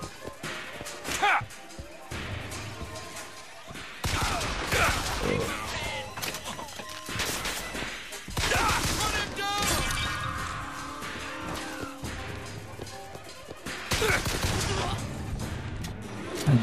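Loud gunfire and crashing impacts from Bioshock Infinite's golden pistol and other weapons come in dense bursts and volleys, with quieter lulls between heavy stretches.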